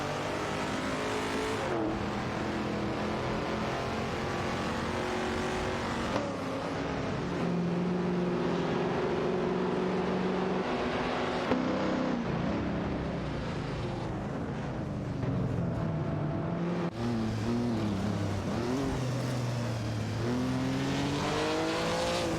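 Race car engines from a racing video game, including a Chevrolet Nova SS 66 and a Ford Maverick 70, drone continuously with rising and falling revving pitches as several cars shift gears, dense and loud throughout.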